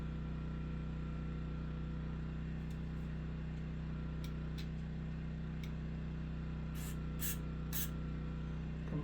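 Quick hissing bursts of aerosol spray are fired into a car engine's intake, a cluster of short sprays near the end over a constant low mechanical hum, with a few faint ticks earlier.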